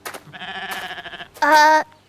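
A goat bleats loudly and close, one long wavering call followed by a sharper, stronger second bleat.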